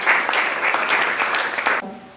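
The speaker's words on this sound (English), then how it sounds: "Chimdinma O, a round of applause for her." Dense audience applause at a tech fellows graduation ceremony, continuous and fairly loud for nearly two seconds, then cutting off abruptly into a quiet room.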